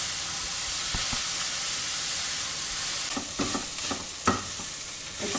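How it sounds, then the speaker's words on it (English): Carrots sauteing in ghee, a steady close sizzle and hiss with scraping stirring strokes growing more frequent toward the end, no talking. "I'm sauteing this in the remaining ghee"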